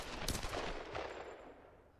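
Gunfire in the Tomb Raider video game, a quick burst of several muffled shots followed by a fading echoing tail, fairly faint and with no talk.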